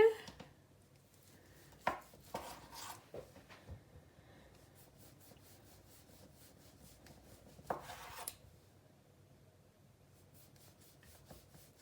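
A knife slices through rolled vegan cinnamon roll dough on a board, giving several soft thuds and scraping strokes in irregular bursts, close and quiet with no speech.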